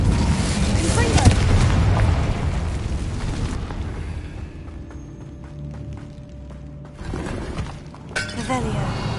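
In Hogwarts Legacy, the Confringo blasting spell sets off a heavy explosive boom with shattering debris, followed by lingering rumble and crackle and a second burst, while a voice speaks.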